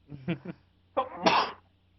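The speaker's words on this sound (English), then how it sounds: "I always sneeze like once per show." A few short throaty vocal sounds, then one sharp, forceful sneeze up close, fading into quiet.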